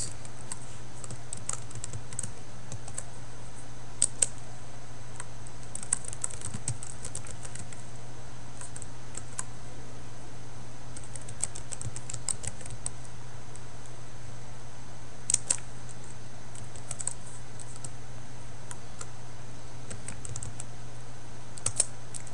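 Several lines typed on a computer keyboard in a Linux terminal, with soft, irregular key clicks going on for over twenty seconds above a faint steady hum.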